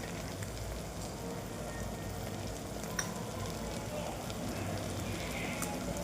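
Masale bhaat base in a pan, with vegetables, red chili powder, coriander powder, turmeric and salt frying. A faint, even sizzle runs throughout with one small tick, and no voices.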